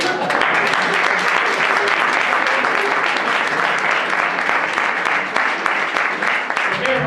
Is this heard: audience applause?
yes